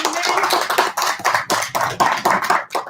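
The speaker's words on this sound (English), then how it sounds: "We can give her a round of applause because she's an amazing" An audience at a community meeting about unhoused people, attended by gubernatorial candidates, gives fairly close, choppy applause in uneven bursts with short gaps, and voices are heard among the claps.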